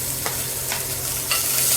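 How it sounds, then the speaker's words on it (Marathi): Chopped onion sizzling in hot oil with cumin and mustard seeds and whole spices, a steady close frying hiss broken by a few scraping stirs of a spoon in the pan. "त्यानंतर आपण टाकूया कांदा आणि छान असं परतून घेऊया त्याला।"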